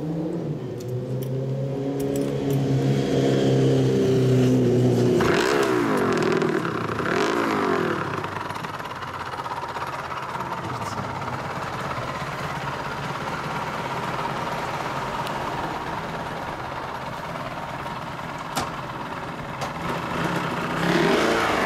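A Suzuki RGV250 Gamma JV22A two-stroke motorcycle engine revs up sharply several times near the start, then settles into a buzzy, crackling idle that stays loud and close.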